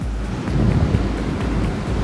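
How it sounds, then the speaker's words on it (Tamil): Heavy wind blows outdoors during open-air painting, a loud, constant roaring rush with deep microphone buffeting and surging gusts, alone without talk. "இன்றைக்கி காற்று ரொம்ப ஹெவியாகவே அடிக்குது."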